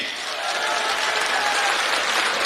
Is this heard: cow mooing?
no